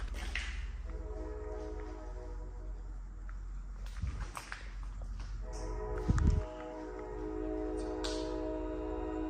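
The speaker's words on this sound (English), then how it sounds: "This train is making it to where I cannot hear what's going on around us." A train rumbles steadily nearby with a sustained mechanical drone, broken by a few louder thumps and clanks partway through.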